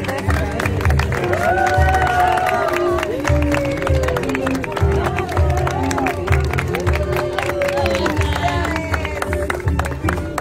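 Wedding guests at a ceremony clap and shout in a lively crowd, cheers and whoops rising over steady applause, with voices and music mixed throughout.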